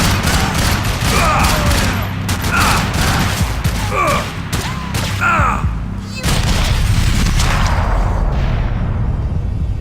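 Dense gunfire from the video game Max Payne 3, a sustained fusillade of loud overlapping shots and booms with whooshing effects, continuing almost without pause throughout.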